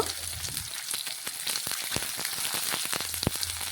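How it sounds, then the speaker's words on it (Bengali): Chopped onion fries in hot oil for a vegetable dish, giving a steady close sizzle broken by sharp clicks and scrapes as it is stirred, with no talk. "পেঁয়াজটা নাড়াচাড়া করে একটু ভেজে নেব"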